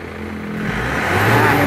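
An Isuzu Panther diesel engine, previously rebuilt twice, revs up close by with a rising, roughening roar that swells steadily and holds loud.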